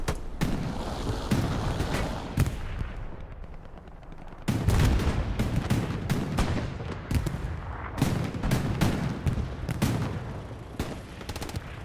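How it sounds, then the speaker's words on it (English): Strafing-run gunfire in Hell Let Loose during a competitive match on Pierre's Farm: heavy, rapid bursts of loud automatic fire and booming impacts, repeated over several seconds with short gaps. "Opening strafing run used."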